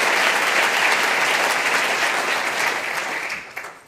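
Symposium audience in St. Gallen giving a warm round of applause, a loud, full and continuous clapping from a large hall that tapers slightly at the end.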